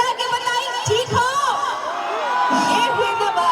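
A stage show crowd in Chamatu, Latehar, Jharkhand shouts and whoops loudly in a sustained swell of mixed voices and yells.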